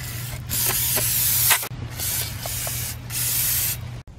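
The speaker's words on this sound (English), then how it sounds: "Clean the rotor with brake clean, but don't get any on you or on anything else." Brake cleaner sprayed from an aerosol can onto a brake rotor of a 2007 Cadillac Escalade, in several loud hissing bursts of a second or so, each separated by brief pauses and ending with a sharp click.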